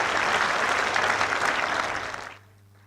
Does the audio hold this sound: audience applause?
yes